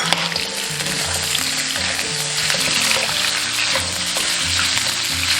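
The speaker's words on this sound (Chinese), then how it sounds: "先用油把这个大蒜给它炸香" Garlic and spices frying in hot oil in a wok for braised pork trotters, a loud, dense, continuous sizzle with occasional stirring scrapes, close up and without speech.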